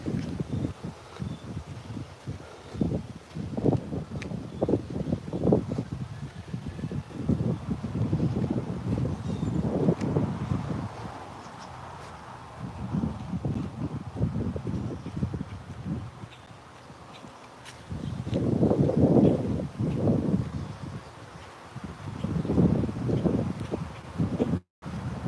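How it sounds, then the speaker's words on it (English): Wind gusts through a garden in spring, rising and falling in broad rushing swells with a rough, buffeting quality close to the microphone, quieter lulls between the gusts. "It is nice and windy out here."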